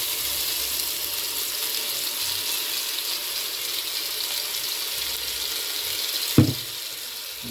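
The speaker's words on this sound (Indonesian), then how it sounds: "bumbu ini harus digoreng sampai harum" Rendang spice paste fries in hot oil with a steady, close, loud sizzle that holds throughout, broken by one brief knock near the end.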